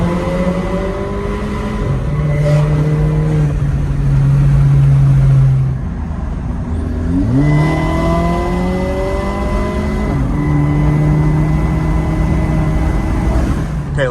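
A turbocharged Volkswagen Passat 1.8T engine with a 3-inch downpipe and catalytic converter revs hard through several gear changes, pitch climbing and dropping, loud and echoing under a bridge.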